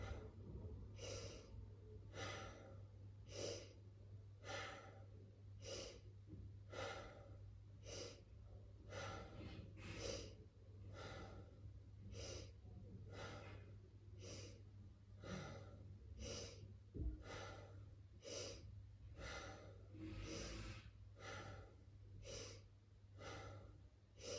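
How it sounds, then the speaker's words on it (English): Breath of fire yoga breathing, a steady series of quick, forceful nasal exhales repeating about once per second, close and fairly faint over a low constant hum. "Some things about breath of fire are it can be done as fast as you can go"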